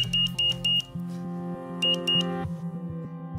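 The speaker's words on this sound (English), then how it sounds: "A Morse code machine creates a pattern of long and short beeps that corresponds to letters and numbers like you see in front of you." Morse code machine tapping out long and short electronic beeps in an uneven pattern of clipped tones, close and clear, over a low sustained background tone.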